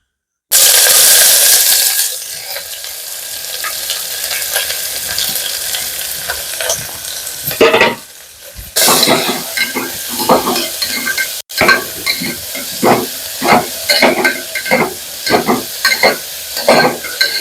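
Three finely chopped onions sautéing in oil in a pan for a broccoli and capsicum gravy: a loud sizzle bursts in as they hit the pan, followed by steady frying and a run of rhythmic spatula scrapes close up.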